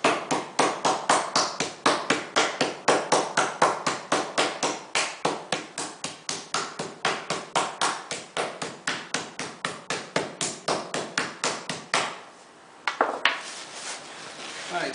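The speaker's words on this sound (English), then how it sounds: "you want to try to pound them into nice 1/4 inch to 1/2 inch steaks" Rapid, regular pounding of a meat mallet on chuck roll steaks, dozens of sharp close thuds in a steady rhythm for about twelve seconds, then a brief pause and a few more blows.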